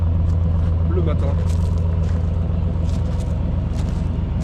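A Ford F exhaust with two Magnaflow mufflers on a fairly recent non-stainless line rumbles in a steady deep idle, a continuous low throb with someone talking over it.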